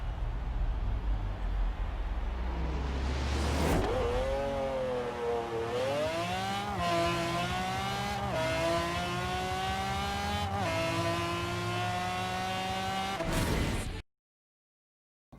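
A Gordon Murray T.50 in Forza Horizon 4 launches down a quarter mile. A high-pitched engine screams and climbs through several quick gear changes, loud and close, then cuts off abruptly.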